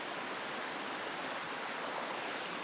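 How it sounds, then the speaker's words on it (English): A creek runs beside a hunting camp during a mule deer hunt, giving a steady, broadband rush of flowing water that holds evenly throughout with no voices. "There's this like creek over here."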